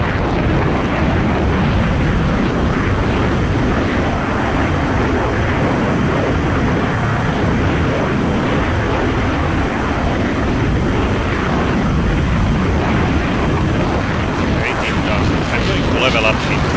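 A MiG-21MF jet in the Falcon BMS flight simulator climbs at high speed, a loud continuous engine roar mixed with rushing wind noise that stays steady throughout, while a voice talks over it.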